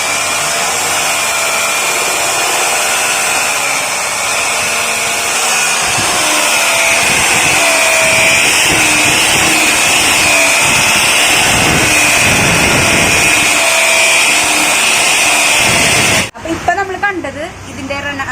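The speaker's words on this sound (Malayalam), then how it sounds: "AAC ബ്ലോക്ക് ഒട്ടിക്കാനുള്ള ബോണ്ടിന്റെ മിക്സിംഗ് ആണ് ഒരു മെഷീൻ വെച്ച് ചെയ്യുന്നതാണ് കണ്ടത്." A mixing machine whirs continuously as it blends bond adhesive for AAC blocks on a building site, a loud, steady high motor whine with a faint warble that cuts off abruptly near the end.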